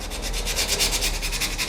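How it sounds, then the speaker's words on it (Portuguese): Sandpaper rubs excess napkin paper off the edge of a glass piece during napkin decoupage, a steady rhythmic scraping of quick back-and-forth strokes, close and fairly loud with no talk. "Agora eu vou cortar o excesso do papel com a lixa."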